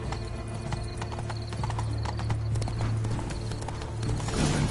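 Galloping horse hooves in a video game, a loud continuous clip-clop pounding at a fast rhythm throughout, with game ambience beneath.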